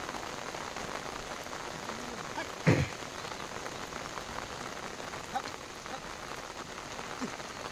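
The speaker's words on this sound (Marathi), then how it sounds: "थोडा रिमझिम पाऊस आहे." Light drizzle patters softly and steadily over fields in Konkan farmland at the start of the planting season, a faint even hiss broken by one brief louder knock midway.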